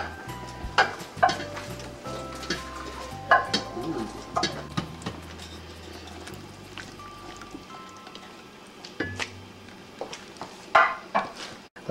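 Chopped vegetables dropped into a pot of homemade chicken soup, giving a series of close clattering thumps and splashes, with pot and utensil clinks scattered throughout.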